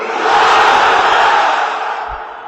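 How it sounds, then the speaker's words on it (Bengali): A huge open-air religious gathering of a vast crowd in Gaibandha, Bangladesh, roaring a takbir chant in unison, a loud sustained mass shout that swells and then slowly fades, with no single voice standing out. "আওয়াজ তুলে তাকবীর পড়েন, লিল্লাহে তাকবীর"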